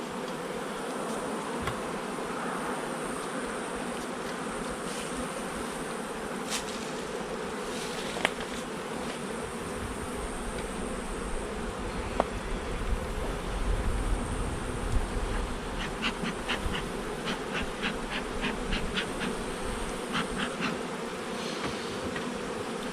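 Dense, steady buzzing of many honeybees around a hive box during a fall honey harvest, close and continuous, with faint scattered clicks and taps from handling the frames.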